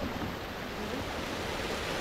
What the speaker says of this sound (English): Here the water is flowing from the top area,